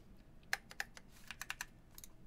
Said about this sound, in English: after I do some typing sounds